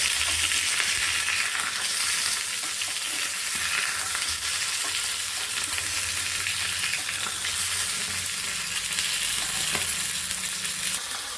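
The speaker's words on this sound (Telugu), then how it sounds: "ఇప్పుడు దీన్ని నూనెలో వేసుకున్నాం. ఇప్పుడు దీన్ని మిక్స్ చేసుకున్నాం." Chicken liver frying in hot oil while being mixed in the pan, giving a loud, steady, dense sizzle that carries on without a break from start to finish, with no talking.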